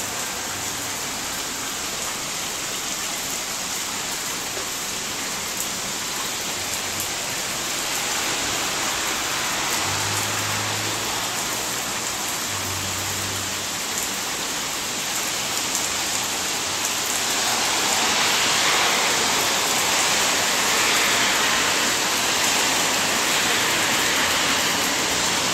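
Steady rain falling on a front porch, a dense continuous hiss and patter that grows slightly heavier near the end, with no voices.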